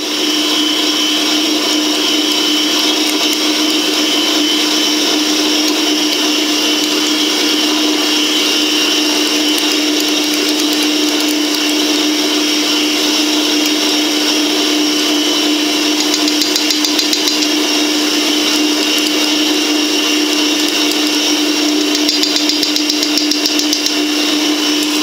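An electric mixer whirs loudly and steadily without a break, mixing frangipane with melted chocolate, a constant high motor drone close by.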